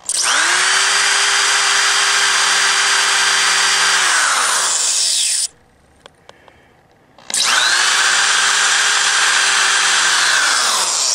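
A power drill running at steady high speed, countersinking holes in a 2x4 wood frame, with two long continuous whirring bursts that wind down at the end of each, separated by a short quiet gap with faint clicks.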